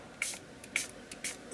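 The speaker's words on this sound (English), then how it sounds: "I'm going to grab my spritzer spray" Spritzer spray bottle misting orange and red colour onto a mixed media art journal page, three short hissing bursts at an even pace, close and fairly quiet with no talking.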